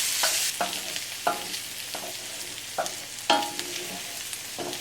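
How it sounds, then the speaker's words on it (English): Onions and garlic sauté in a pan, a soft continuous sizzle broken by a spoon stirring and scraping at roughly one-second intervals, each stroke a distinct close knock. "we're going to just saute this down until the onions and the garlic are softened"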